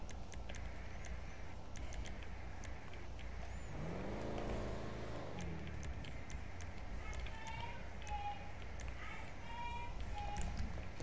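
A car's exhaust in GTA 5 gives a short rising, burbling rev in the middle, set against a constant background rumble, with voices talking over it.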